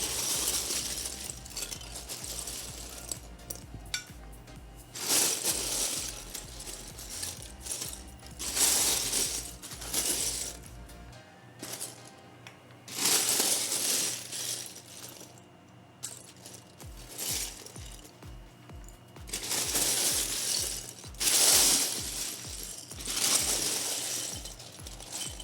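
Building pieces are searched through by hand, producing continuous clattering and rustling of small plastic parts that comes in busier bursts with quieter stretches between them.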